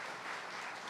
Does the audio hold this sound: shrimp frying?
no